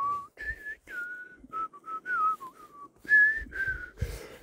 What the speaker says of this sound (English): here is the voice memo with the idea right here. I'm gonna go ahead and play it